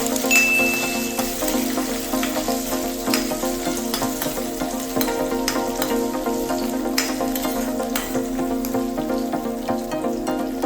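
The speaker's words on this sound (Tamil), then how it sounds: "இது கூடவே 100 கிராம் அளவுக்கு சின்ன வெங்காயத்தை சேர்த்துட்டு நல்லா வதக்கிக்கலாம்." Shallots sauté in a hot pan with cashews, cinnamon, cloves and red chilies for a mutton curry, giving a steady, dense sizzle and crackle with light stirring clicks and no talking.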